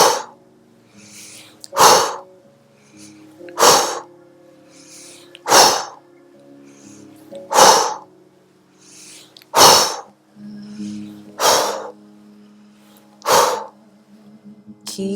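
Forceful breaths from a breathwork session come at a steady rhythm, a sharp inhale or exhale roughly every two seconds, close and loud, with soft background between breaths.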